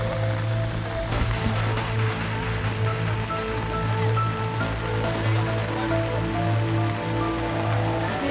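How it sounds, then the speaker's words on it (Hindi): Heavy rain pours down during flooding in Amreli, Gujarat, making a constant dense wash of water noise with a low hum underneath. "गुजरात के अमरेली में भी बारिश ने कहर बरपा रखा है।"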